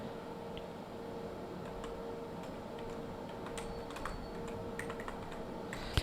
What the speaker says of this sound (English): when I will press Alt and Enter button on the keyboard